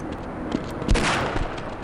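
Gunfire in the video game Half-Life comes in several loud, sharp shots, with one strong crack near the middle and a few more after it, over a dense background of game noise.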